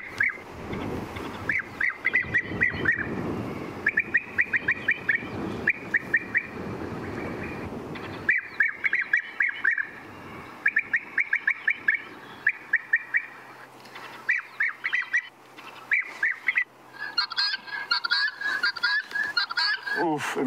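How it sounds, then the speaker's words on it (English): A European bee-eater's recorded call played at a safari reserve at sunrise: repeated bursts of bright, rolling trilled chirps in short phrases, with another bird's busier chatter joining near the end over low background rumble. "But that is the sound of a European bee eater,"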